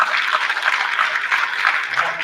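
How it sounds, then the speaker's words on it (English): Audience applause at a school board meeting honouring a girls soccer team that won the Long Island Championship, steady moderately loud clapping through the whole stretch with a faint voice at the end. "So let's give them a real round of applause."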